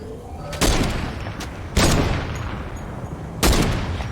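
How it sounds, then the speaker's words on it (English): Gunfire from defenders in Fortnite Save the World: three sharp, loud bursts of shots spaced roughly a second apart, each followed by a fading echo over a steady game background. "I don't know what Grandpa's shooting at, but the obliterator guys will take care of the shield"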